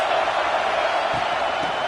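Steady stadium crowd roar from a college football video game during a Big Ten conference game, a continuous wash of noise with no distinct cheers or voices standing out.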